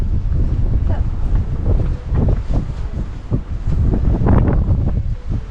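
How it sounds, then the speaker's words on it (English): Strong wind buffeting the microphone in loud rumbling gusts, with voices talking faintly underneath. "It's windy too."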